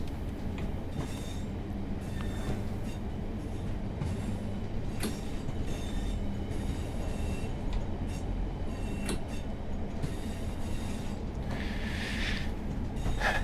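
A British train running in Train Sim World 6, a steady rumble of wheels on rail with faint clicks and squeals over a continuous, fairly loud bed of noise, with no voices.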